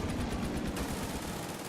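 Rapid machine gun fire in a video game, a continuous dense rattle of bursts, steady and moderately loud, with no talk over it.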